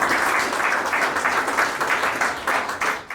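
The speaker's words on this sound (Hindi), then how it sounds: "जोरदार तालियां" Loud applause from the audience at a retirement function, a steady burst of many hands clapping at close range that carries for about three seconds before tapering off.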